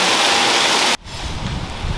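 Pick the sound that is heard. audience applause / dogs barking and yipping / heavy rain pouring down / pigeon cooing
heavy rain pouring down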